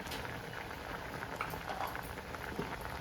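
Vegetables simmering in a pot for Kerala egg avial, a soft continuous bubbling and popping hiss, low and steady throughout with no voices.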